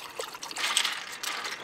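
Mineral water poured over ice cubes into a sweet-sour drink at a beachside campsite, a soft, steady trickling splash lasting under two seconds, close by with no talking.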